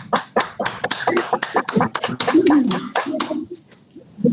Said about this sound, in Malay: saya nak berdiri sambil tepuk tangan